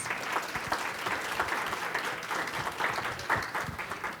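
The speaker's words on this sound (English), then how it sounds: "Round of applause." Applause for a sponsor at a fair and affordable housing summit: steady clapping from an audience in a hall, continuous and fairly soft, heard alone.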